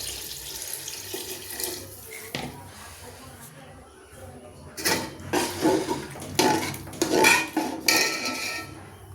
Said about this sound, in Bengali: এটা যতক্ষণ না সিদ্ধ হচ্ছে আমি নাড়াচাড়া করবো, এবং পরিমাণ মতো জল দিয়ে দিচ্ছি।